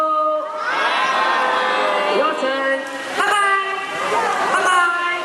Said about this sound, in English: I want all of you to wave and say bye-bye